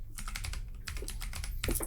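Continuous clicking of keys on a computer keyboard, close and fairly loud, with bursts of fast taps separated by short pauses and no voices over it.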